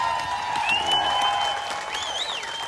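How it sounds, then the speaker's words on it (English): An audience applauds Pastor Phil with a steady wash of clapping, while sustained tonal whistles or feedback-like tones ring above it. "Can we give Pastor Phil a little bit of a bigger applause in that?"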